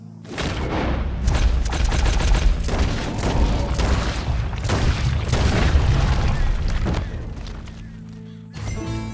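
Gunfire in a heavily modded Red Dead Redemption 2 game rips through a dense, loud barrage of overlapping shots and heavy booms for about eight seconds. It then drops off briefly before one more burst, with voices partly buried underneath.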